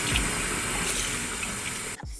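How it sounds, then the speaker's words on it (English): Cool tap water runs steadily over dyed hair bundles and a lace closure rinsed in a sink, a constant close splashing stream that cuts off abruptly near the end, with no one talking. "All I'm doing is rinsing it off with cool water"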